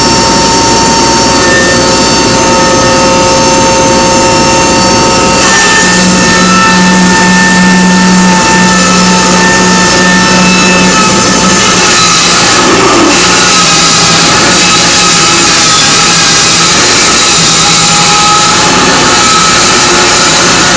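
A diesel sawmill engine roars steadily and loudly, its pitch climbing as it revs up, with a whining tone running throughout and no voices.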